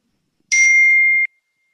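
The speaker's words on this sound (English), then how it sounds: "A message chimes." A phone message notification chime sounds once, a clean, bright electronic tone that rises sharply and holds for about three quarters of a second before cutting off, alone in silence.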